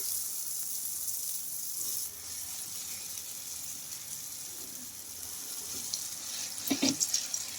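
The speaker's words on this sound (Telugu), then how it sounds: "ముందుగా కలిపెట్టేసుకున్నాం కదా ఈ మిశ్రమాన్ని అయితే ఇందులోకి అయితే వేసుకుంటున్నా" An egg and cabbage mixture hits hot oil in a pan, giving a steady, bright sizzling hiss that runs throughout and briefly flares louder near the end with a few clattering touches.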